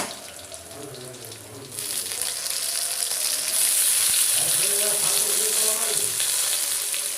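Tomato goes into a pan of onions already frying in oil, and a steady hiss of sizzling swells noticeably louder and brighter after the first couple of seconds, then holds close and continuous.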